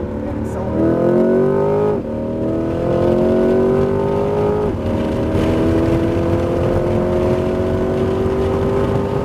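A Corvette C8 Z51 accelerates hard on the Homestead Miami Speedway track, its engine loud and close, climbing steadily in pitch through two quick upshifts before holding a high, rising wail.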